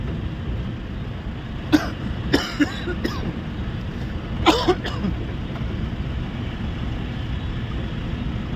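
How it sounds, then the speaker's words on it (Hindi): Several harsh coughs from a sore throat in two short bursts, close by, over a steady rumble of road or engine noise. "गला खराब है, खांसी हो रही है साला"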